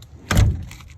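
A newly hung exterior door in an old barn is pushed and swings, giving a single dull thunk with a short rattle as it moves, close by and with no talking.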